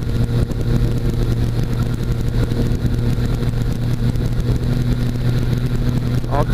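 A small airplane's engine drones with some throttle applied on a low landing approach in the airport pattern, making a loud, continuous hum that fills the cabin from start to finish.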